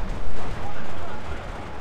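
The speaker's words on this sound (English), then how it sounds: "It was a nice rocket barrage as well, taking out all my transports and pinning me down." A rocket barrage in the WWII strategy game Steel Division 2, a short rumbling burst of overlapping explosions, loud and dense from start to finish.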